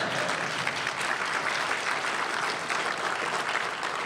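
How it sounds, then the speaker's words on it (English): A large convention audience of lawyers applauds in a dense, continuous wash of clapping that holds steady and loud throughout. "you can clap for that"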